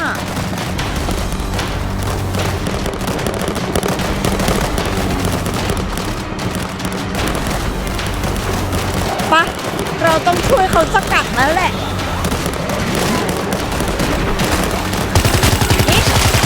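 Continuous video-game gunfire with booming grenade explosions in World War Z Aftermath, loud and busy, with someone talking and shouting over the fighting.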